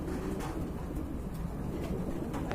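Lahori pigeons at a large pigeon farm coo in a soft, continuous low murmur, fairly faint and steady, with no voices over it.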